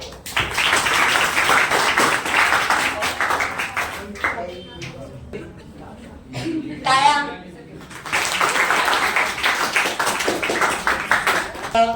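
Clapping for the winner of an online quiz comes in two bursts of applause, one at the start and one toward the end, with a person talking in the quieter gap between them.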